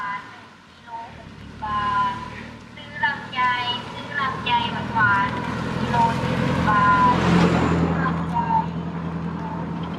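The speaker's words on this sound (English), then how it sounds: "One second, let this car go." A car passes on a road, its engine and tyre noise building to a broad rushing swell and then easing away, under someone talking close by.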